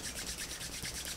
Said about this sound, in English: rub your hands like this, because your hands can emanate a lot of good heat